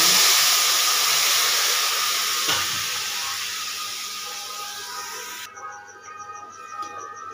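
Water poured into a hot pan of roasted dry fruits sends up a loud, broad sizzling hiss that gradually fades and settles over several seconds.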